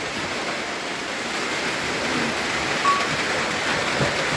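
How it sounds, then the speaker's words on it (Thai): Rain falling outdoors, a steady broadband hiss of drops with no distinct individual patters and no talking. "ฝนกระตุกลงมาแล้วพี่น้องเอ้ยคุณ"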